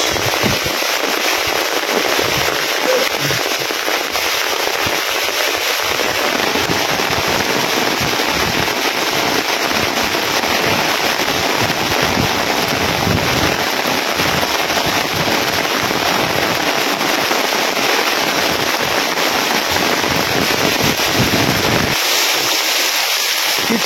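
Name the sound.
heavy rain with strong wind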